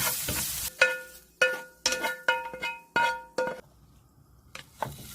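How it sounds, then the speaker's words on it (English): Carrot strips stir-fried in hot oil with a pinch of salt for beef and shiitake japchae, a steady sizzle broken by several sharp clinks of a utensil striking the pan, each followed by a brief surge of frying, with no talk. "let's stir fry the carrot in oil too, with a pinch of salt"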